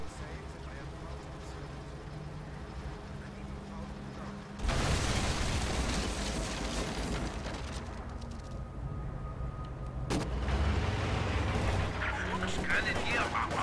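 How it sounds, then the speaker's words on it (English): An incendiary artillery barrage in a strategy video game bursts in as a sudden loud rumbling roar of fire and explosions, with a second heavy wave of blasts a few seconds later, filling the mix. "That looks like it was a pretty devastating incendiary artillery barrage"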